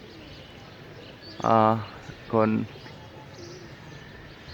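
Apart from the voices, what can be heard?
pigeons cooing and flying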